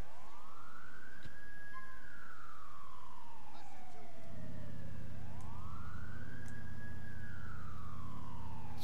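Two police sirens wail in the game GTA IV, each sweeping up and slowly falling, with a low engine rumble coming in midway; a steady, moderately distant emergency sound with no talk.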